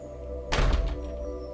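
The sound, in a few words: door shutting sound effect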